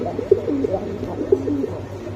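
A pair of pigeons coo softly and close by, with two throaty coo pulses about a second apart over a low, steady murmur.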